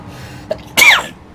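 A single sharp sneeze, close and fairly loud, bursts out after a brief small intake sound, then fades into quiet room tone.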